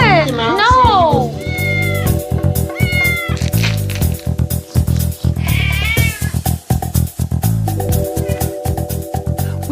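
A house cat meowing loudly and repeatedly close by, with drawn-out whining calls over steady rhythmic music and voices speaking in the background.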